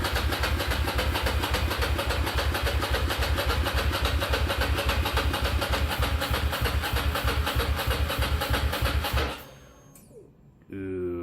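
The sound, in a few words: Ducati Monster motorcycle engine starting and idling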